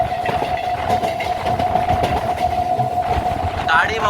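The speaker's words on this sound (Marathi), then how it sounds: "गाडी बहुतेक तरी आपल्या टॉप स्पीडला चालते" A commuter train near Bhivandi runs at top speed in the monsoon, with a loud continuous rumble and a steady high whine that stays close for the whole stretch, and a faint voice may sit underneath.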